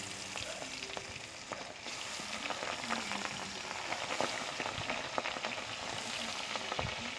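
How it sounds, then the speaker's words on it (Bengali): Marinated tangra fish fry in hot oil with a dense, crackling sizzle that holds steady throughout, punctuated by tiny pops and spits, close and fairly quiet, with no talking. "মাখানো হয়ে গেলে এবার তেলের উপর মাছগুলো দিয়ে দেব"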